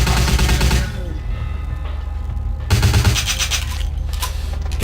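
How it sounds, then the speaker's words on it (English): Bursts of rapid gunfire ring out in Vampire The Masquerade: Bloodlines, loud and dense, with a brief lull before another heavy volley. "Alright, then I'll just shoot."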